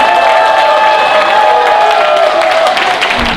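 Loud crowd applause and cheering at a Democratic Party members' rally in Yeongdeungpo, Seoul, welcoming a party leader to the stage, with dense clapping, shouts and whoops throughout.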